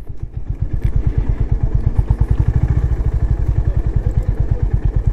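A motorcycle engine chugs nearby with a fast, even low thumping beat, rolling at low speed into a resort parking area, loud and steady with no talk.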